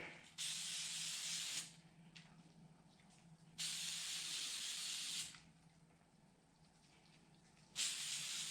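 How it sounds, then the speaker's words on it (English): Three bursts of hissing aerosol spray from a can of oil filter lube, each lasting over a second, with quiet pauses between, close by. "We got a little oil filter lube here. Just gonna spray a little on there."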